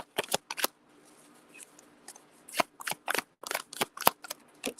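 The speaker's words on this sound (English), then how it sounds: "Got a couple shuffles here." Tarot cards are shuffled during a live reading, producing quick, crisp riffling snaps and slaps in irregular bursts, close and fairly quiet against a soft room background.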